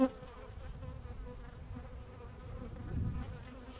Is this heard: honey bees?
yes